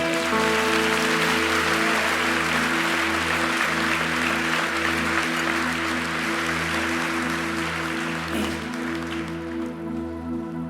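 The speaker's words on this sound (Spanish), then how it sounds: "Mándale un aplauso al coro que tenemos." Applause for a church choir during a service, sustained clapping from the congregation over a steady low tonal hum of music, continuous and fairly loud throughout.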